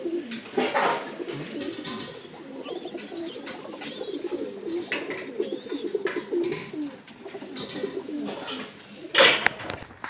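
Pigeons of the Madrasi breed coo steadily inside a loft, several birds overlapping in low throaty calls with occasional wing flutters and a louder burst near the end.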